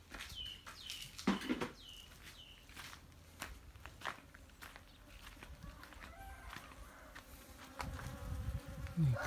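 Dwarf honey bees buzz around their nest near pink flowering vines, a faint, wavering insect drone with darting passes and light rustling close by.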